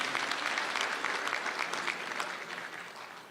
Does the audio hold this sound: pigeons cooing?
no